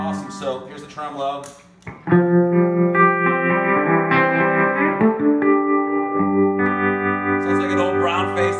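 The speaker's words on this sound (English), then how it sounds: "So here's the tremolo." An electric guitar through a Quilter MicroPro Mach 2 HD amp's tremolo rings out chords whose volume pulses in a steady, rapid wobble, the sound throbbing evenly as the notes sustain.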